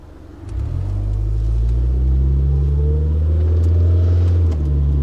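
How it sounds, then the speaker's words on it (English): A Honda Concerto or Rover R8 pulling hard in first gear before the shift to second, a steady rising engine drone with a faint transmission whine layered over the low rumble, close and continuous from inside the car. "just that nice charismatic whine between first and second"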